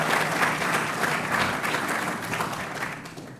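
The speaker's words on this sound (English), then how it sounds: "I'm going to ask you again to give them a round of applause even before they start speaking." Audience at a university faculty of science public lecture giving the panelists a steady, full round of applause that fades slightly toward the end.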